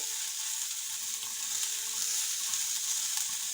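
Finely chopped onions fry in a pan for a rice dish, a steady close hiss of sizzling oil with faint scraping as they are stirred, and no voices.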